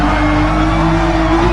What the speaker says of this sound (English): we can really hear the engine of that BMW ahead of us